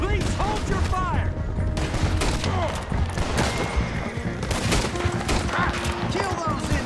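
Dense volleys of gunfire in the video game Red Dead Redemption 2, rapid overlapping shots crackling loud and continuous throughout, with voices shouting over the shootout.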